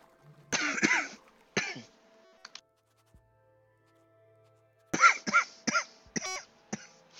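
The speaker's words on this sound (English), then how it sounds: "A little bit of a cough going on." A person coughs and clears their throat in several separate bursts, close and fairly loud, with a quiet gap in the middle and no talking.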